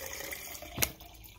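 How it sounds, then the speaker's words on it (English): Salt water is poured into a container, a soft continuous trickle with one brief splashy surge midway, faint and steady throughout. "And so then we'll pour that salt water into our container."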